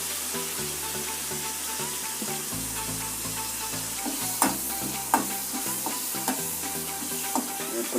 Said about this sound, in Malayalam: ഓയിൽ ചൂടായി നിൽക്കുന്നപ്പോഴേക്കും നമ്മൾ വേപ്പിലിട്ട് കൊടുത്തിട്ടുണ്ട്